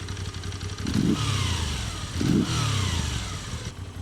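A Moto Guzzi V7 Special MK IV motorcycle, heard close at its twin exhaust pipes, gives two quick throttle blips. Each rises from a rumbling idle and settles back between revs.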